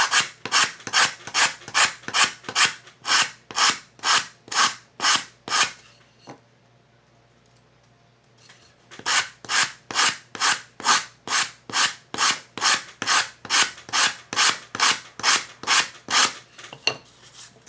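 Rhythmic back-and-forth sanding strokes on the wood of a Native American style flute being made, close and even, pausing briefly before the steady rasping resumes at the same brisk pace.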